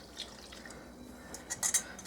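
Thick molasses mixture poured from a container into a bowl of gingerbread batter, heard as close, soft wet drips and small splashes that build toward the end over a quiet room background.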